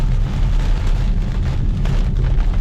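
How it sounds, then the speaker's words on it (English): Heavy rain lashes a Polestar 2 during a windy storm drive, a dense, loud, steady roar of rain and wind noise with rumbling low end heard from inside the moving car, no talking. "oh, it's raining hard, oh, it's windy"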